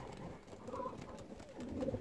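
Soft, low coos from thousands of racing pigeons gathered at a race start repeat over a steady murmur of many birds, with a couple of brighter coo notes standing out near the end.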